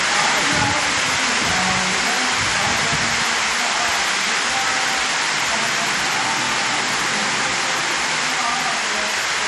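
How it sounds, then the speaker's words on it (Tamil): Rainwater gushing down the stepped footpath of the Palani hill temple during heavy rain, a dense, steady roar of rushing water, loud and unbroken throughout. "பழனியில் கனமழை காரணமாக மலைக்கோயில் படிப்பாதையில் பெருக்கெடுத்த நீர்."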